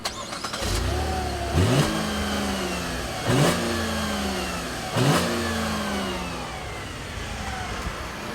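A 2014 Buick LaCrosse is floored at full throttle, the engine climbing in pitch through three distinct rising sweeps, each ending with a brief surge as a gear changes, heard from inside the car and fairly subdued.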